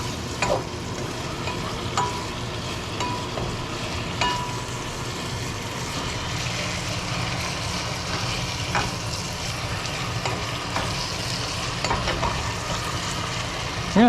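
Steady sizzling of beef and peppers stir-frying in a non-stick pan over lower heat, with occasional stirring scrapes and soft clicks, continuous and close throughout.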